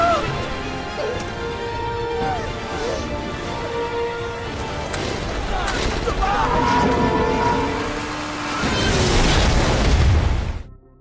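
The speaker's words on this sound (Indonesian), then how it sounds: "Kapal itu pun kemudian meledak" A ship explodes in a zombie film, with rumbling booms and crashing debris layered over music; a final loud burst swells near the end before cutting off.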